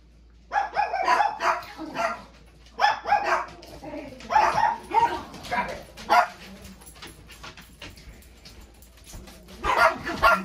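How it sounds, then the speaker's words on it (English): Several dogs bark in bursts in a home kitchen during pizza making, loud close yips and bow-wows coming in clusters with short pauses between. "since the dogs are barking"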